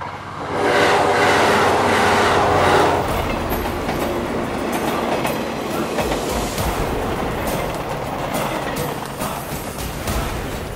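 A train passes on a railway line beside the Tokaido Road in Japan, a loud horn-like tone at first giving way to a sustained rushing rumble and clatter of cars going by at close range.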